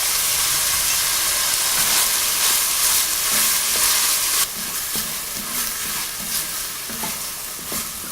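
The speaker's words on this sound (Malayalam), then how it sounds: "നമ്മൾ കട്ട് ചെയ്ത് വെച്ചിരിക്കുന്ന 3 സവോളയും ആവശ്യത്തിന് ഉപ്പും ഇട്ട് വഴറ്റുക" Chopped onions sauté in hot oil with salt for a Kerala-style pork vindaloo, producing a loud, continuous sizzle and hiss with repeated stirring scrapes; the frying quiets a little about halfway through.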